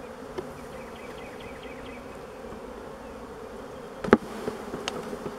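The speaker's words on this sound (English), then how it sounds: "I'm going to shake a lot of bees in there." Honey bees buzz steadily while a hive is split, their frames shaken out. A sharp knock or clatter sounds near the end, with no talk.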